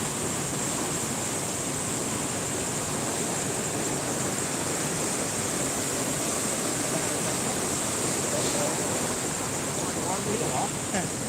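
Heavy rain pours down on a village as the water rises, a loud, unbroken broadband roar of rainfall and rushing water filling the whole scene without pause.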